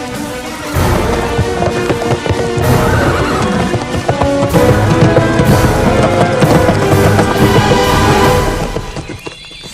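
A horse whinnies loudly and close while its hooves clip-clop in a quick, busy rhythm, the neighing rising and falling over the clatter before everything cuts off near the end.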